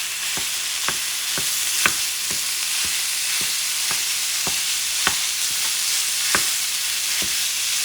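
Ground meat fries in oil in a pan with a steady, bright sizzle throughout, broken by sharp crackles and pops at irregular intervals.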